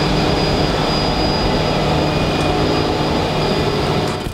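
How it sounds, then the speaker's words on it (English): Loud engines roar steadily in the engine room of the Holland America cruise ship Rotterdam, a dense, unbroken mechanical drone with a faint high whine and no talking. "The engine rooms are super loud"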